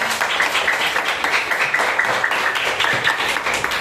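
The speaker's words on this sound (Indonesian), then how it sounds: "Oke, tepuk tangan dulu untuk semua." A class of fourth-grade elementary school students claps together, making dense, continuous applause of many hands at close range with no talking.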